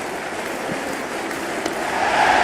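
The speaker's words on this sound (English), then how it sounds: "The crowd is electric right now." Stadium crowd cheers and applauds steadily during an IPL cricket match between RCB and SRH in the Cricket 26 video game, a dense continuous roar that swells slightly louder toward the end.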